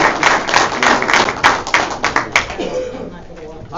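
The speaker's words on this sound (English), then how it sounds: "we'll give you a round of applause" Attendees at a village public meeting give a round of applause, a few seconds of moderate clapping at the start that thins out, with speech over and after it.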